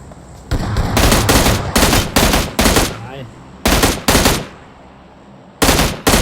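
Loud automatic gunfire in the PUBG Mobile video game, several sharp rapid bursts separated by short gaps, close and dominant.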